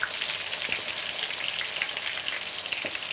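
Batter-coated small bananas deep-fry in hot oil, giving a steady bubbling sizzle with faint crackles throughout, close and even, with no talking.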